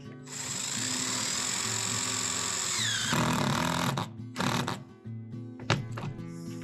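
Power drill driving screws into a standing seam metal roof on a cabin: a steady high whine for about three seconds, then a few short bursts and clanks against the metal panels.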